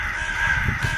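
A crow gives a single loud, drawn-out caw, close by and alone, in a comedy scene.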